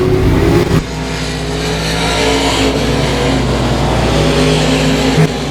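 Race cars at a speedway roar steadily down the back straightaway, a loud, continuous engine drone with one shift in pitch near the start and a slight swell near the end.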